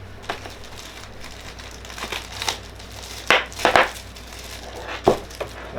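Plastic packaging around a cable from an Epson V600 scanner box is torn and crinkled open, a close series of sharp rustling bursts and crackles separated by brief quieter handling.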